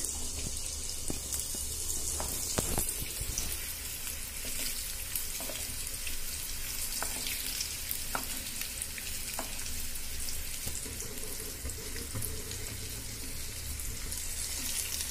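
Chicken popcorn deep-frying in oil on a medium flame, a dense, steady bubbling hiss with scattered small pops and crackles, continuous and close with no voices.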